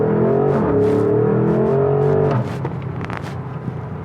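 A 2021 Porsche Cayenne Coupe GTS launches hard from a standstill, its engine roaring close and loud as the revs climb, then easing into a quieter, rushing drone with a few small knocks.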